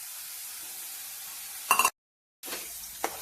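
Washed rice poured into a hot pan for masala prawn rice, giving a steady hiss of sizzling and stirring with a louder clatter, a brief cut to silence, then more frying.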